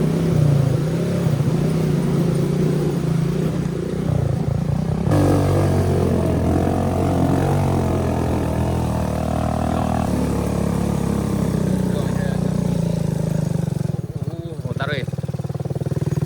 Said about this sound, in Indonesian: Motor kita nggak kuat.